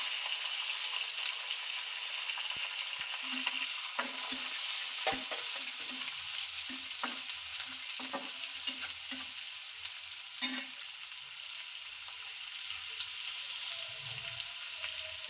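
Chillies and onion for a spinach chicken dish frying in a pan, with a steady background sizzle and a series of soft, irregular knocks and scrapes of a spoon stirring, close and without talk.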